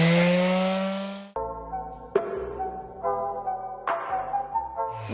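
Power sanding along the edge of a wooden sled runner for a Christmas sled-chest, a loud abrasive whine that cuts out and restarts in several short bursts.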